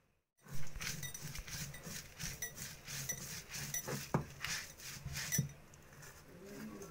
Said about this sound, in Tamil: இப்போ வறுத்து வச்சுருக்க பொருளெல்லாம் அம்மியில் வச்சு அரைக்க போகிறேன்